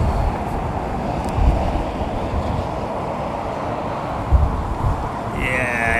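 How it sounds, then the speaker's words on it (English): Airliner jet engines spooling up on the runway at London Heathrow, the outboard engines throttling up into a broad, steady roar with wind rush, close and loud, with no talk. "Outboard engines, watch the outboards power up with the auto throttles."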